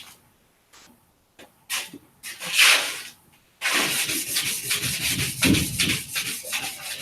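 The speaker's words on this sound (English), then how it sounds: "I'll run over it with this 400." Hand sanding of Bondo body filler with 400 grit sandpaper, a steady rasping rub in close, continuous strokes after a few short scrapes at the start.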